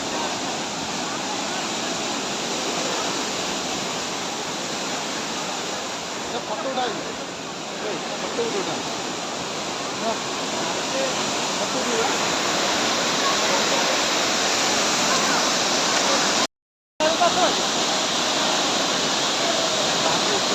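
A stream runs strongly during a walk to its waters, producing a dense, continuous rushing roar close by, nearly uniform with only slight swells and a brief dropout.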